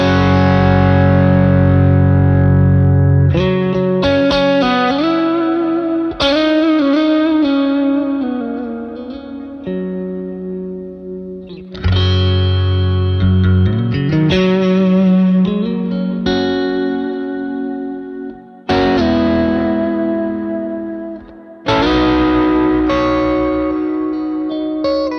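An electric guitar plays through the Neural DSP Archetype Cory Wong plugin on a distorted preset, with sustained chords and bending notes ringing out alone, heavy effects and echo, loud and close.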